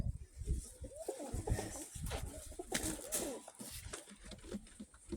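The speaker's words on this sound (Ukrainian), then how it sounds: "Це у мене голуб Миколи Івановича Троценка." A pigeon coos close by in repeated soft, throaty rolling calls, with faint rustling and light patter in the background.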